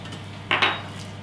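Flour, salt, beef stock powder and soy sauce are mixed in a bowl, heard as two quick, close clinks of a utensil against the dish in a quiet kitchen.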